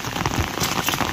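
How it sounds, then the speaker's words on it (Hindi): Heavy rain drumming steadily on an umbrella outdoors in the Uttarakhand hills, a dense close patter with no voices. "बट बारिश ही रुकने का नाम ही नहीं ले रही है।"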